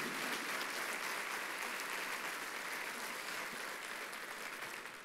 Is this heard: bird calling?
no